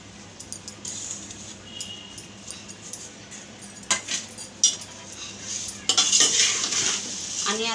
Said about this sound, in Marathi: 6-7 मिनिटं मीडियम गॅसवर हलवून घ्यायचं आहे